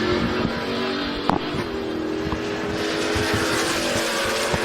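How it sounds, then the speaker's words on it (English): An Oldsmobile drag racing car making a run at a drag strip, its engine a steady loud roar throughout with a sharp transient near the start. "Left side, Kim Sanacott in the Oldsmobile"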